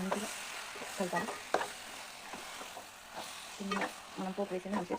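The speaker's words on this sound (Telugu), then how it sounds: "చికెన్ వేసి ఒకసారి మంచిగా కలపాలి." Chicken sizzles in a pan for a curry while a spoon stirs it, producing quick scraping clicks and bursts of frying over a constant hiss, fairly close but quiet.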